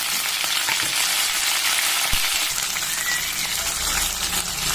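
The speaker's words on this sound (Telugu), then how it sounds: "అన్ని వెజిటేబుల్స్ వేసి బాగా వేయించుకోవాలి." Drumstick, radish and carrot pieces fry in a pan with a loud, steady sizzle that carries on without a break and with no talking.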